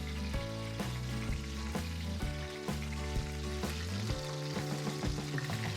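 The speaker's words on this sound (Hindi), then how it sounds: "फाइव मिनट वन साइड हमने इसको फ्राई करना है और 5 मिनट ही दूसरी साइड फ्राई करना है।" Fish pieces fry in a pan for a fish curry, each side cooked about five minutes, giving a continuous close sizzle mixed under prominent rhythmic music with a steady beat.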